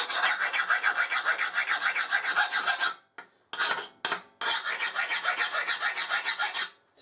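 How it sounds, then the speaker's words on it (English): A hand file rasping across a hardened steel knife blade in a hardness test. The strokes are rapid, loud and close, with a continuous scraping rhythm that breaks off briefly and then resumes. "in this case the file's skating straight off, so that's a well hardened blade"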